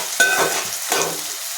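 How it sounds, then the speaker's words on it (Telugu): Tomatoes for a fish curry cook in a pan, giving a loud, close hiss with two quick bursts of stirring scrapes over a short stretch; no talking. "టమాటాలు కూడా మగ్గించుకోవాలి."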